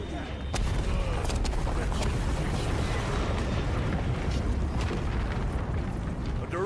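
Airstrike explosion in a video game: a dense, continuous roar of blasts and rumbling debris lasting several seconds, loud and broadband with scattered sharp cracks.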